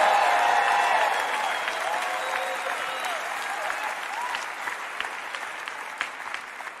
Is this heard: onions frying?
no